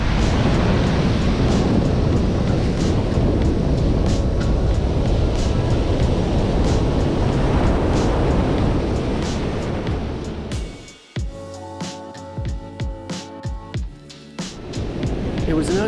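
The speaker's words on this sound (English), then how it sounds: "it's right next to the ocean with a gorgeous beach" Ocean surf washes steadily onto a gorgeous beach right beside an airport in Thailand, a loud continuous roar that briefly cuts out and gives way to clattering, tonal sounds before the waves rush back in.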